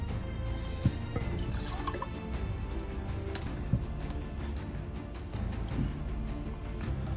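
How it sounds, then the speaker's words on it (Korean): Someone takes a quick drink from a glass of water, giving soft wet sips and gulps with a few sharp clinks, close by against a faint room background. "잠깐 물 한 잔 마시고 가겠습니다."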